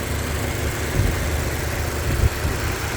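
The 2.5-litre SkyActiv four-cylinder engine of a 2020 Mazda3 G25 GT idles with a steady low rumble heard close up and fairly loud. A couple of slight bumps ride on the even note, and no one speaks.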